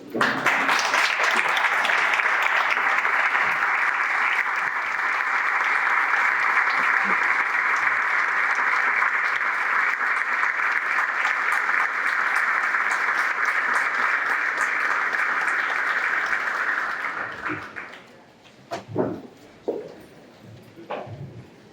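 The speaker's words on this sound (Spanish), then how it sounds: "les pido que nos pongamos de pies y que dediquemos la correspondiente ovación" A lecture-hall audience gives a sustained standing ovation at a Spanish book presentation, loud steady clapping for about seventeen seconds before it thins out into a few scattered claps and murmurs.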